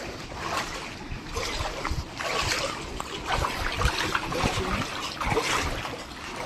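Floodwater after heavy rains rushes and splashes steadily across submerged farmland near flooded Shiva temples, a continuous loud churning wash with choppy surges throughout.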